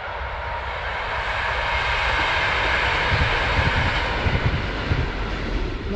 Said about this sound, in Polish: Już pojechał pociąg